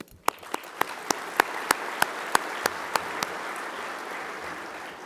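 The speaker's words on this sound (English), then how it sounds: "Would all of you please give yourselves and your fellow attendees a round of applause" Applause at a fire chiefs' conference general session: one nearby person claps about a dozen crisp, evenly spaced times over a softer, distant wash of crowd clapping, then the claps stop and the background fades.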